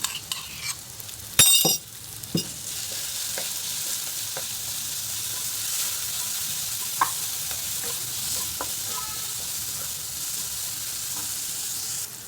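Tomato sautéing in a pan as a pounded thecha of green chili, garlic and salt goes in, a steady close sizzle with a few spoon clinks and scrapes near the start.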